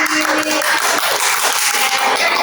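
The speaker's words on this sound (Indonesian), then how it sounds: "Tepuk tangan dulu untuk April." A class claps together in a dense, steady burst of applause for a student after a micro-teaching lesson, loud and continuous throughout, with no voices over it.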